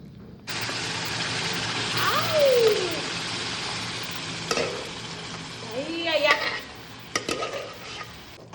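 Panch phoron spices and pickle hitting hot oil in a kadai, a loud steady sizzle and frying hiss with stirring scrapes and a few clinks, with a voice speaking briefly.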